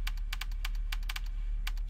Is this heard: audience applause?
no